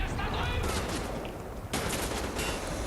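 Gunfire from the video game Wolfenstein: The New Order, heard as dense, continuous bursts of shooting that fill the whole stretch. The volley grows louder and sharper in two surges near the start and again past the middle.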